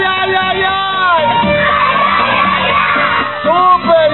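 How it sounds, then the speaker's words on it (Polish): A group of kindergarten children jump and shout loudly together in chorus, a dense burst of high excited voices and whoops rising and falling across a few seconds. "skaczemy do góry i krzykniemy głośno za mną"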